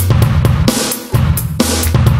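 Heavily compressed drum loop, dense and loud with kick and snare hits flattened into a constant wall of sound, little space between beats.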